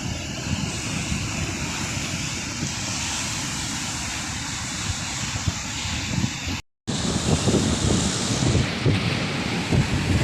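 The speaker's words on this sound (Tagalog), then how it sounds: "kaya malalaki ang alon." Large surf breaking along a Palawan coast during the northeast monsoon, driven by strong wind; a continuous loud roar of crashing waves and gusting wind buffeting the microphone, with a brief dropout partway through.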